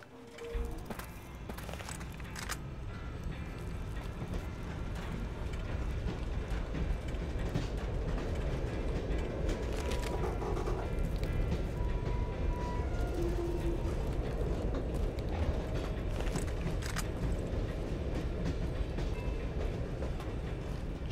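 A train running on rails in the Fallout New Vegas video game, a continuous low rumble with rhythmic clacking building steadily and holding for about twenty seconds, with no talking.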